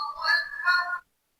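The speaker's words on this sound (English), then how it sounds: "sorry, that's my phone." A mobile phone ringtone plays briefly indoors, two bright melodic bursts of electronic tones that stop abruptly after about a second, with no talking over them.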